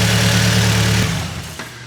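A turbocharged Nissan Silvia SR20DE engine, running on a Link Monsoon engine management unit, idles loud and close with a steady low rumble that eases off slightly toward the end.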